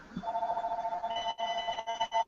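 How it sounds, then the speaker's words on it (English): A telephone rings in the background, its steady electronic bell tones repeating with short gaps, fairly faint and unaccompanied by talk. "I've got a ringing phone in the background"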